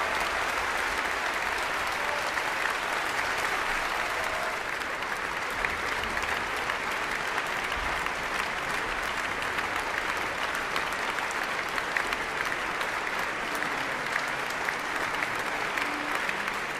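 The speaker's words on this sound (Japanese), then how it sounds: "割れんばかりの拍手、それは音楽家への最高の賞賛です。" Thunderous, unbroken applause from a large concert audience for a pianist, a broad roaring sheet of clapping that holds at full strength for many seconds without talk.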